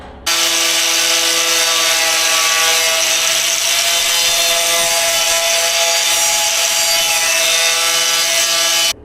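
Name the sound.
wire wheel brushing a truck bonnet before welding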